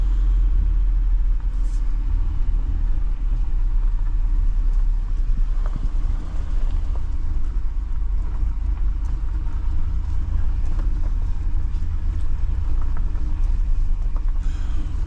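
A Jeep Wrangler Final Edition carrying a bike rack crawls slowly up a mountain trail, its engine a continuous loud low rumble with steady cabin road noise and no voices.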